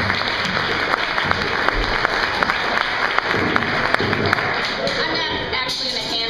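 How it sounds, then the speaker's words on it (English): A live audience at a comedy-style civics show gives a big, dense round of clapping, loud and close, sustained for several seconds before thinning out near the end. "Let's give her a big round of applause"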